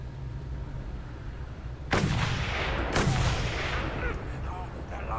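Long Shot harpoon weapon firing in the Mad Max video game: two loud, heavy booming shots about a second apart, each with a rumbling tail, over a low background hum.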